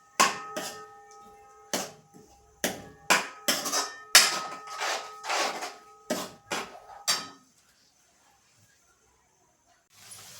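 A spoon scraping and knocking against a pan while stirring a hair oil mixture as it cooks, about a dozen sharp metallic clinks in an uneven rhythm, close and loud, then stopping into near silence.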